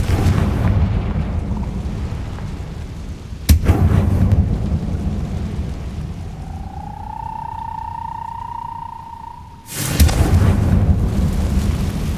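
A Confringo fire spell detonates in the Hogwarts Legacy video game, giving a deep rumbling boom with a sharp crack, then a rising whistling tone, then a second heavy blast, with no talking.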